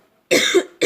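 A woman gives a wet, chesty cough in two close bursts, a longer harsh one followed by a short second, near and clear against silence.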